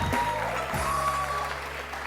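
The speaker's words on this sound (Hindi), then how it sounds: "ऑफ कोर्स रुबाब के लिए बहुत सारी तालियां।" Sustained clapping from a studio audience greets a model on a TV wedding special, close and steady, layered over a brief burst of show music.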